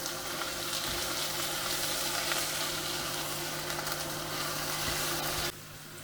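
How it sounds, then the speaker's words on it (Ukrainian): Minced meat is added to a pan and stirred, a steady broadband sizzling and scraping that runs continuously before dropping off abruptly near the end. "Далі додаємо фарш перемішаємо добре"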